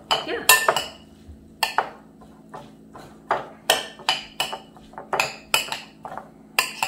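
Salad tossed in a bowl with salt and pepper, giving a run of sharp clinks and knocks of utensils against the dish in irregular bursts, close and loud over a faint low hum, without speech.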